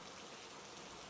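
Rain falling steadily, a dense, even wash of hissing patter with no breaks over a very short stretch and no voices.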